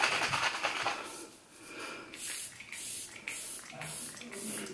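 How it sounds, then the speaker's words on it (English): Hourglass Veil Soft Focus Setting Spray sprays in a run of short, close, airy hissing bursts with brief pauses between them, with no speech over the sprays. "now I'm going to take my Veil Soft Focus Setting Spray."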